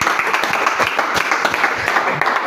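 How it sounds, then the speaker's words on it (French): Church congregation applauding during a worship service, dense continuous clapping from many hands filling the room, steady and fairly loud. "Applaudissons encore pour le Seigneur."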